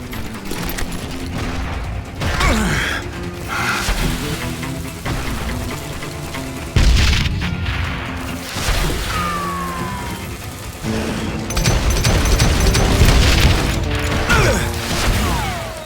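Dynamite explosions in a Call of Juarez Gunslinger shootout, heard as loud crashing blasts and scattered debris against continuous gunfire and clatter. A heavy burst lands partway through, and the din stays dense throughout.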